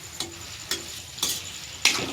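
Onion and other ingredients for paneer chilli sauté in a pan, a soft steady sizzle broken by four evenly spaced scrapes of a spatula stirring the mix.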